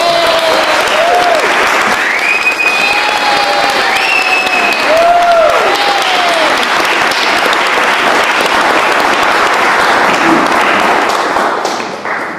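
A literary audience applauds to welcome poet Eileen Myles, loud sustained clapping filling the room for several seconds with occasional whoops and whistles riding on top before it begins to fade at the end.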